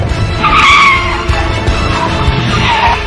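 A Ford Capri launches hard and skids, its tyres squealing loudly over a revving engine close at hand in a brief, intense burst.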